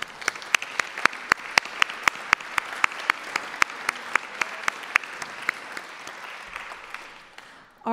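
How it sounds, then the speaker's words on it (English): An audience at a city arts awards ceremony applauds themselves, with one loud nearby clapper keeping a steady beat over the softer crowd clapping, which fades out toward the end. "Please give yourselves a hand."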